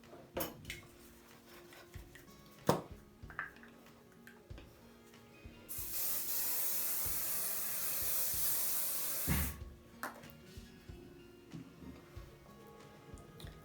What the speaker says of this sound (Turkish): Biz azıcık şey sıkalım buna. Sprey. Saç spreyi sıkalım.